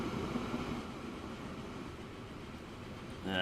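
A video game train rolls down a steep grade on the Midland Mainline, giving a steady, fairly loud rumble of wheels on rail that rises slightly at the very end.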